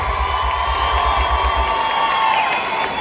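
Crowd at a reunion concert cheering and whooping, a loud continuous roar of voices with a rhythmic low thump under it and a ringing tone throughout.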